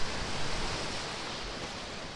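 Gentle sea waves wash onto a beach at day's end, a steady broad rush of surf that fills the air evenly, with no voices.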